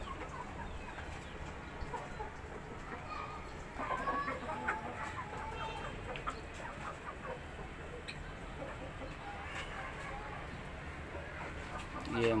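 Aseel chickens on a farm in Karachi, including a roughly four-month-old rooster kept for breeding alongside hens, cluck and call at moderate distance over steady outdoor background noise, with occasional brief louder bird calls.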